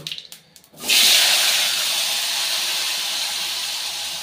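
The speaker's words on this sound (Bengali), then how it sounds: "ফোড়নটা কয়েক সেকেন্ড নাড়াচাড়া করব।" Spice tempering hitting hot oil for a rohu fish curry with drumsticks and potato: a few light taps, then a sudden loud sizzle that settles into a steady, close hiss while being stirred.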